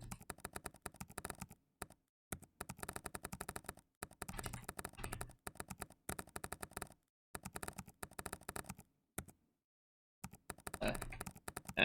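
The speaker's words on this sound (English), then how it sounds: "That's the sounds that Opera browser makes. I really like it. The little key clacking sounds." Rapid clacking keystrokes from an Opera browser keyboard typing sound effect, coming in dense bursts separated by brief silent gaps, crisp and close throughout.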